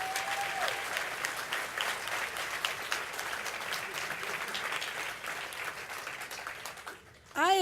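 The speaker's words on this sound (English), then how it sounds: "Let's give him another round of applause" A large audience at a county MLK celebration gives a sustained round of applause, steady and full for several seconds before fading, with a brief burst of a voice or microphone sound at the very end.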